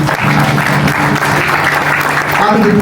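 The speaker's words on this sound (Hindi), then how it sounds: "मैं चाहता हूं कि आप लोग जोरदार तालियों से" Audience applause fills a book launch event for the book Dear X, steady and loud throughout, with voices and some talk mixed into the dense clapping.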